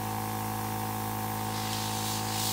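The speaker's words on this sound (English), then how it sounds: "Spray." A Dinair airbrush sprays water-based makeup through a stencil onto a face, a steady close hiss riding over a constant low compressor hum, growing a little stronger toward the end.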